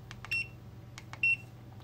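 A multimeter in continuity mode gives two short, high electronic beeps about a second apart, faint and close, between soft clicks over a low hum.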